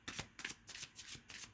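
A deck of tarot cards is shuffled by hand in about six quick riffling bursts in a steady rhythm, close and quiet, with no talk.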